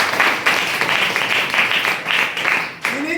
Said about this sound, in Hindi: एक बार इनके लिए जबरदस्त ताली होनी चाहिए